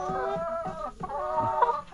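A hen clucks repeatedly close by in short, rhythmic bursts with faint chatter from other fowl in the background.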